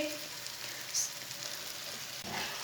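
Green chillies fry in hot spiced oil for a Punjabi mixed pickle, giving a steady, soft, hissing sizzle with no talking over it.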